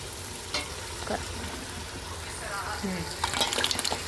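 A spoon stirs a sizzling tempering of mustard seeds and cumin in a pan, with soft scrapes and crackles over a steady frying hiss, just before boiled mixed dal goes in.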